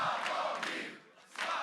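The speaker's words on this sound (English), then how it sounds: "Cheers and applause accompanied the reveal of exit polls at post-election rallies of both Sławomir Mentzen and Grzegorz Braun." Crowd at a post-election rally in Poland cheering and shouting as exit polls are revealed, a loud sustained roar that dips briefly and swells again.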